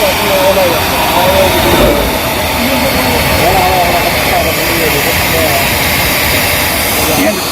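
The electric motor of a universal grain crusher runs as a loud, steady roar with a constant hum, while someone talks over it.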